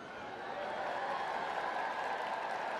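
An indoor crowd applauds a dog's weave-pole run at a masters agility championship, sustained dense clapping that swells slightly after the start and holds steady.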